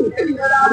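A Kaldam pigeon gives a single short, soft cooing call close by, a low throaty murmur of under a second.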